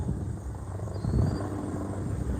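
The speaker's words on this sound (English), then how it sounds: "There's multiple choppers in the sky that have just passed me." Helicopters fly overhead during a daytime search along a railroad in East Bernstadt, Kentucky, a continuous low rotor rumble and drone that swells slightly mid-way, heard from a distance with no talk.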